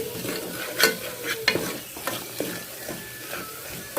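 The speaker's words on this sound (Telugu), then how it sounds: "ఇవన్నీ బాగా పచ్చివాసన పోయేంత వరకు ఫ్రై చేసుకుందాం." Masala frying in oil for a pigeon pea curry, a soft sizzle under repeated clinks and scrapes of a spoon stirring the pan, all at moderate volume.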